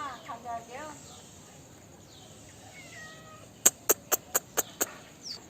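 A cat lets out a few faint, wavering meows early on and again midway, followed by a quick run of six sharp, evenly spaced clicks near the end.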